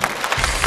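A studio audience at a Chinese stage comedy show claps in a brief, dense burst of applause, loud and continuous throughout the short moment.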